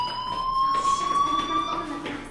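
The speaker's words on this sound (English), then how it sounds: "do you hear that fire alarm? That means you should be outside." A school fire alarm rings in the video game Life is Strange, a loud steady electronic tone that holds throughout with a harsh buzzing edge.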